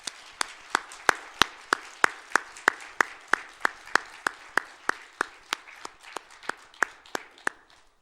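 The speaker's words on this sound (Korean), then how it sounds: "우리 하나님께 영광의 박수를 올려드리겠습니다." A church congregation claps together in a steady, even rhythm of sharp, fairly close claps across the whole stretch, with no talk over it.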